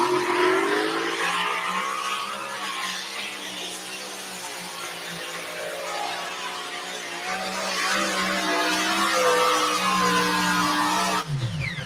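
A twin-Hemi pulling tractor of about 6,400 horsepower roars at full throttle during a pull, its engine note loud and sustained with a slowly rising pitch for nearly twelve seconds before cutting off abruptly near the end.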